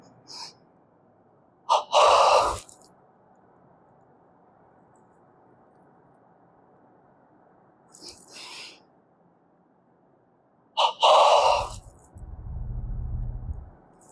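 Sharp nasal double inhalations and forceful exhalations repeat in pairs during an energizing breathing exercise, loud and close with quiet pauses between, ending in a longer rushing exhale.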